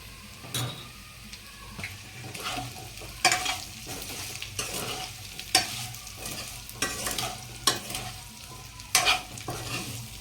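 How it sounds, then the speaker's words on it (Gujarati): Bottle gourd muthiya roasting in a pan, a steady sizzle broken by repeated scraping stirs and clinks at irregular intervals, close and moderately loud, without speech. "મુઠિયા થોડા શેકાવા દેવાના"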